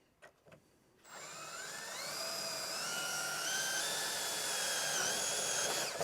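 A couple of faint taps, then a power drill whirs up and runs steadily, its pitch rising and holding as it drills out metal roof rivets on a Honda Element camper top close by.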